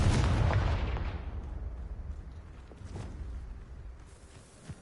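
A Confringo blasting spell cast in Hogwarts Legacy erupts in a loud, rumbling fiery burst that dies away slowly over several seconds, with a faint thump near the end.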